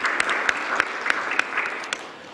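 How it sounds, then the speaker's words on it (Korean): A conference audience gives welcoming applause, loud and close, with individual claps standing out as sharp peaks over a dense bed of clapping that eases off slightly toward the end. "환영의 박수를 부탁드립니다."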